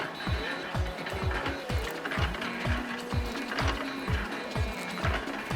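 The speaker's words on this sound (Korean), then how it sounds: "기계가 힘차게 펌프질을 시작했습니다." A clay board press pumps red clay water with a steady mechanical rhythm. Regular thumping strokes about twice a second sit over a continuous whirring machine hum, loud and close.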